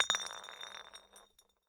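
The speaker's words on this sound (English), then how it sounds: "something fell out of his pocket with a soft clink" A small object drops from a pocket in Zero Escape: Virtue's Last Reward, giving one soft glassy clink with a short ringing tail that fades out within a second.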